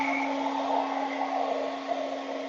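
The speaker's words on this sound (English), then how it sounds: "We're going to use the hair dryer" A hair dryer drying acrylic paint blows steadily with a constant motor whine and airy rush, close by and unbroken, with no talking.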